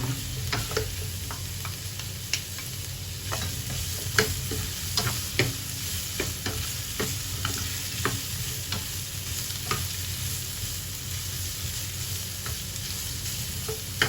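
Minced pork and zucchini sizzle steadily in a hot pan while a utensil stirs and scrapes in irregular clicks and knocks, close up and continuous, with no voices.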